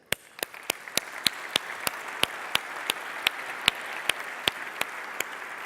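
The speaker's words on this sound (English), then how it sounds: "please join me in a big round of applause" Applause in a steady, evenly spaced rhythm of sharp claps, over a soft background wash of crowd noise.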